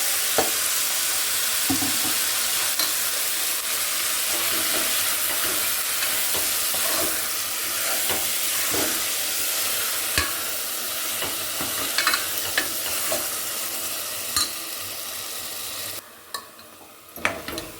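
Ground masala paste sizzles and fries in a pan of tempering for avare kaalu (field bean) sambar, with steady crackling hiss and repeated scraping stirs throughout, close and fairly loud, the frying dropping away near the end.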